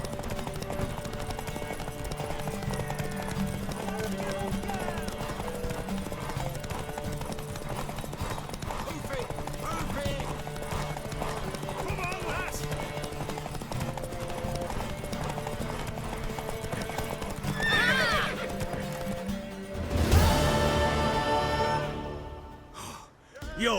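Horse hooves clip-clopping steadily in The Witcher 3, with a whinny and breathy snorts near the end over a bed of game music and ambience.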